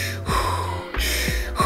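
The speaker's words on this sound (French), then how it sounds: "vous allez respirer dans vos détendeurs" Breaths drawn through a scuba diving regulator during a pre-dive equipment check: close, loud hissing inhalations and exhalations with a rasping airflow, about three breath sounds in quick succession.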